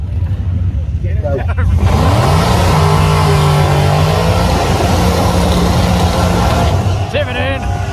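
A drag race car at a streetcar shootout event revs its engine loudly and close, the roar climbing and holding in pitch for several seconds before dropping off, with a commentator talking over it.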